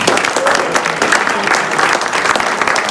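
Steady, dense applause from an audience at a church ward emergency preparedness class, loud and continuous throughout with no pauses.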